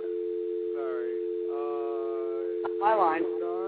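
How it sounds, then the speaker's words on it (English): A steady telephone dial tone hums continuously on the line while faint voices and other sounds from the call come and go over it. "We got a dial tone."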